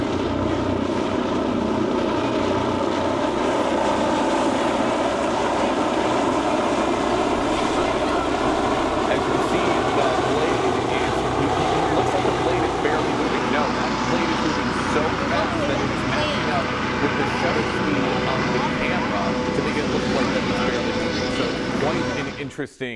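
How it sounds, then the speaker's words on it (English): A helicopter running during fire department rescue training, a loud, steady rotor and engine roar that fills the whole stretch without letup, with slowly shifting engine tones, before cutting off abruptly at the end. "to see the helicopter in action"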